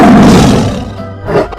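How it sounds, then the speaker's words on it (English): A tiger gives one loud, close roar that swells at the start and trails off into a rumbling growl, with a brief second surge near the end, heard alone. "Tiger."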